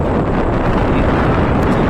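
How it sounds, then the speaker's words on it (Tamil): Strong wind gusting steadily across the microphone at Malampuzha dam in Kerala, a loud, constant broadband roar with no breaks and no voices. "காற்று பாருங்க எப்படி அடிக்குது."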